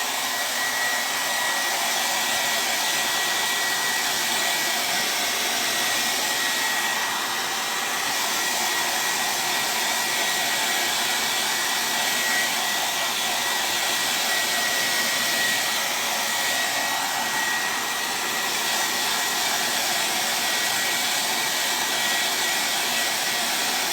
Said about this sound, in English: I'm going to dry this real quick with the blow dryer